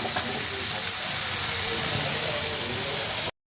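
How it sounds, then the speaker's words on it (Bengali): Eggs frying in a pan: a steady, loud sizzling hiss that continues evenly, then cuts off abruptly. "আর এখানে আমি ডিম ফ্রাই করতেছি, ডিমগুলো এখন দিয়ে দিচ্ছি।"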